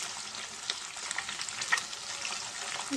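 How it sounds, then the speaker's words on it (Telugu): Egg pieces frying in a pan for egg fried rice, a steady close hiss with small crackles throughout, no voices. "చిన్న చిన్న పీసెస్ కింద మనం ఫ్రై చేసుకున్నాం మంచిగా ఎగ్ బాగా ఫ్రై అవ్వాలి ఫ్రెండ్స్"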